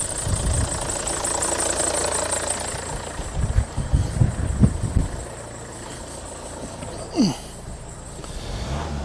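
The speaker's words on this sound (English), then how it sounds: "Give this Volvo a bit of a rev." A Volvo V50 engine runs at the workshop with a rough, knocking idle. It swells briefly in a couple of short revs midway, and a faint tone hums above it.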